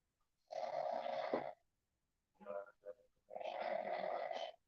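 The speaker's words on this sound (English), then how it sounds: "he's snoring away in there" A man snores in another room in three rasping bursts: a long one, a shorter broken one, then another long one, each separated by a quiet breath.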